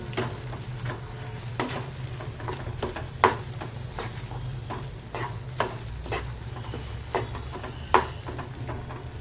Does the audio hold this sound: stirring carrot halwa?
yes